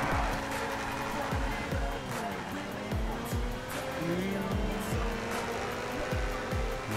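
Modded supercar racing in GTA V, a Nissan GT-R against a Mercedes, with a steady loud engine roar that rises and shifts through repeated gear changes, joined by faint tire noise and a brief voice.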